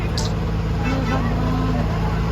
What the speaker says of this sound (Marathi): एवढं ट्रॅफिक जाम झालं आहे